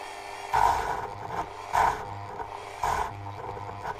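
A Dremel 3000 rotary tool running at minimum speed bogs down as it is stalled against a workpiece, giving a low grinding hum with three heavier, rasping surges spaced about a second apart.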